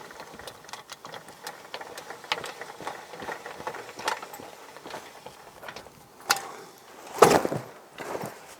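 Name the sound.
cranking handle winding in cantilever parasol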